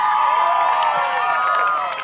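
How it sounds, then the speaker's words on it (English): A crowd at a high school pep rally in Lawrence roars and cheers for school representatives, sustained loud whooping with scattered clapping and shouting voices, close and continuous. "Give them a round of applause."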